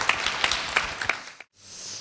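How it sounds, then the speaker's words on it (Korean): A small outdoor busking-style audience at a Seoul civic event claps briefly, with a handful of distinct, fairly close claps that fade out into near silence at the end. "다시 한번 박수"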